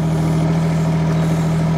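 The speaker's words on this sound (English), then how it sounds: "engine would be fine, because at the minute it's just idling along." A mini excavator's water-cooled three-cylinder Yanmar engine idles at about a third throttle, giving a steady, close, loud low drone with a strong hum that never changes and no voices over it.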